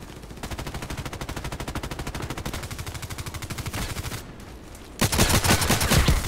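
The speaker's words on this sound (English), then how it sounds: "I was shooting to the left, not on the target" Gunfire in the video game Contract Wars, a long rapid burst of automatic fire in an even rhythm, followed after a short pause by a louder, harsher burst.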